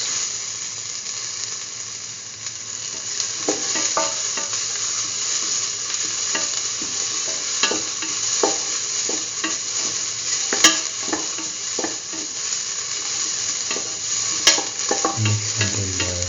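Egg and mung bean curry sautéing in a frying pan gives off a steady, loud sizzle and hiss, with a spatula scraping and stirring at irregular moments throughout.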